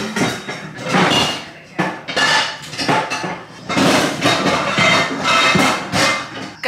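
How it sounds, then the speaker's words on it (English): A frying pan fetched and handled in a home kitchen, with repeated clanks and knocks of metal cookware, cupboard and door bumps in an irregular stream of close, fairly loud impacts. "I'm gonna go get a pan."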